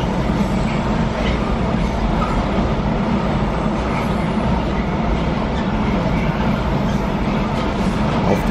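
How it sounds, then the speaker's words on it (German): A train rumbles past a railway level crossing in Assmannshausen on the Rhine line, a loud, continuous close-up roar of wheels and carriages with faint rhythmic clatter throughout. "Da niemand hinter mir war, beschloss ich, mir diesen Zug direkt am Bahnübergang anzuschauen."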